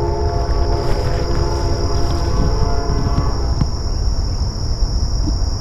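A train horn sounds near the tracks in downtown Baton Rouge at night. Steady, loud, sustained tones hold throughout over a constant chorus of crickets.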